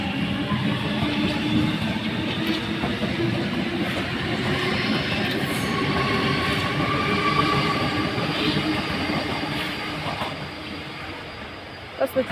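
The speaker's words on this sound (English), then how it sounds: "here comes a B set" A Sydney B set suburban train pulls into a station platform with a steady, loud rumble and rolling wheel noise that holds for the whole stretch, easing slightly near the end.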